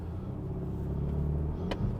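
A Mercedes-Benz with a faulty injector drives along, its engine giving a steady low rumbling drone inside the car, with a faint periodic thump and no talk.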